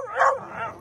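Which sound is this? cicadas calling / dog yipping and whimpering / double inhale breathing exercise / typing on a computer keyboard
dog yipping and whimpering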